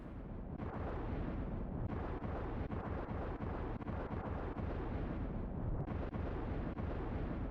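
In the Secret of Evermore video game, a villain detonates herself in a loud, sustained explosive roar that rumbles densely for several seconds with no voices over it.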